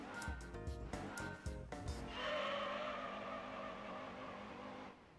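A front-wheel-drive car in Gran Turismo 3 takes a corner on the Deep Forest circuit. The engine revs up and down in quick pulses, then the tires give a long, steady squeal that fades out at the end.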